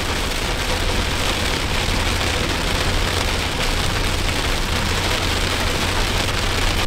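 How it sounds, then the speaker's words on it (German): Steady rain hissing down at a lakeside campsite in Sweden, a loud, dense, unbroken patter with no voices. "Jetzt fängt es auch an zu regnen."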